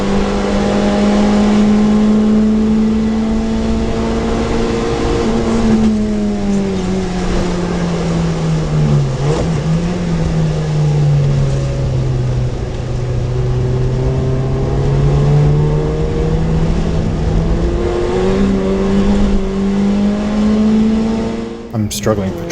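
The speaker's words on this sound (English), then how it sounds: "I'm struggling for traction out of turn 11 in second gear, and the Chaser's 1GZ puts all that boost to use." Toyota Chaser race car with a turbocharged 1GZ engine accelerating hard in second gear out of a corner on a race track at Taupo, a loud, continuous near engine note rising and falling in pitch as revs climb and shift.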